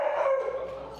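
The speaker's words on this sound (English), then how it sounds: "there's another dog" A dog gives a single drawn-out, tonal bark or yowl at an indoor improv event, loud and close, fading over about a second with no talking.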